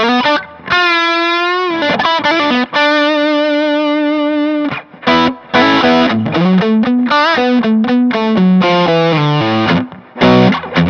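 Electric guitar on the bridge pickup through a Harley Benton Vintage Overdrive pedal, controls at 12 o'clock, with a bright, cutting tone, loud and close, playing held notes then a quick melodic run, with no voices.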